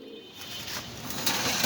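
Pigeons coo softly at a pigeon farm, with a steady murmur of low cooing and faint bird calls continuing throughout.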